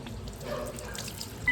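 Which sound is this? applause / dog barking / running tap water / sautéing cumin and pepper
running tap water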